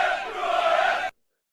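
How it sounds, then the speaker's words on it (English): Notts County football supporters chant together in a stadium, a dense, sustained wall of massed voices that holds steady and then cuts off abruptly. "let's throw it over, as we do, to the crowd to fire up the chant"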